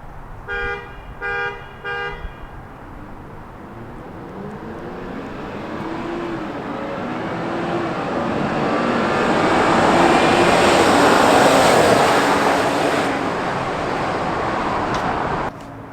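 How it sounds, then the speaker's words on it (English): Two third-generation Toyota Tacoma pickups race side by side after three short horn toots, the engines building to a loud sustained roar with rising revs before easing off near the end. "So now we're gonna rerun that same race, my truck versus his truck"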